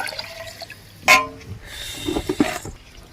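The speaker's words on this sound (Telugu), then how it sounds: "ఇప్పుడు కొంచెం వాటర్ పోసుకుందాం" Water splashes and pours into a vegetable biryani pot set on a village wood-fired stove, a short close gush followed by softer trickling and sloshing, with no talking.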